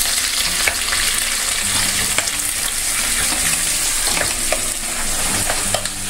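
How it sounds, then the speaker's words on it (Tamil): Large onions with green chillies sauté in a hot pan, giving a loud, steady sizzle broken by scraping stirs and light clinks from the spatula, close up with no talk. "வெங்காயம் நல்லா வதங்கட்டும்."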